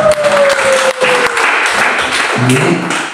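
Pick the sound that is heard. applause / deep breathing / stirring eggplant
applause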